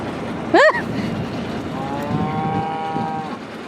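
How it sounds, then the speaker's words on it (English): A cow moos once, a short rising call that carries clearly over a steady low hum of background noise, with a faint drawn-out tonal sound following later. "Mama cow."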